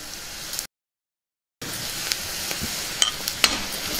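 Onion pieces frying in a pan give a steady close sizzle and hiss, cut by a brief silent gap, then resuming with a few sharper spatters and clicks as the onions keep cooking.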